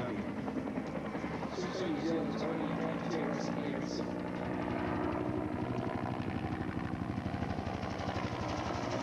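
A UH-1 utility helicopter's steady rotor thrum and engine whine fill the clip continuously, loud and close at an air show, with a faint higher whistle early on.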